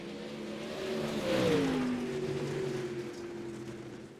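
Dirt late model race car engines at Cedar Lake Speedway in the iRacing video game, a droning multi-car roar that swells as the cars pass close and then settles into a steady, slightly fading hum with no talk.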